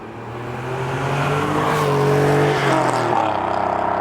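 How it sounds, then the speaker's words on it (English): A car engine runs loud and close, its steady droning note climbing as it revs, then shifting pitch near the end. "Doesn't that car sound good?"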